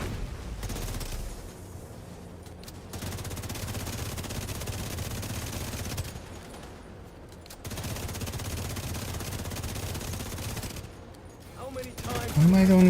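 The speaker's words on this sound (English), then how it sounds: "Why am I the only one shooting at it?" Bursts of rapid automatic gunfire in a video game aimed at a quadcopter, several long sustained volleys separated by short pauses, with a voice briefly speaking near the end.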